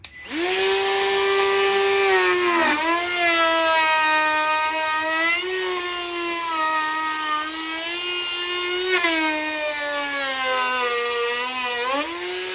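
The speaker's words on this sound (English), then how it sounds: "You're going to router only half of the coaster at a time. So clamp it down on a corner, come over here, and go around the edges." A wood router cuts around the edges of a clamped wooden coaster, its loud high-pitched whine running continuously and dipping in pitch several times as the bit bites into the wood.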